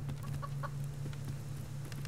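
Chickens cluck in the farming survival game Subsistence, a few short, near clucks over a steady low hum, with no talking.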